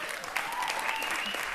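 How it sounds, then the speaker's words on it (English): A crowd's applause rattles steadily for a second and a half, a dense, close patter of clapping hands indoors after a design talk. "thank you for the applause"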